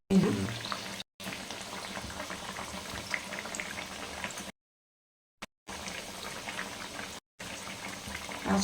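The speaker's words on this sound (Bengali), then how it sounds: "আর কপিটা আছে না একটু ভালোভাবে একটু ভেজে নিতে হবে" Cabbage fritters frying in hot oil on a medium flame, a steady bubbling sizzle that runs close and fairly loud, broken by a few short silent gaps.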